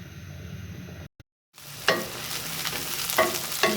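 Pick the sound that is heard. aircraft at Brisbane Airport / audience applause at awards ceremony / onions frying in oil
onions frying in oil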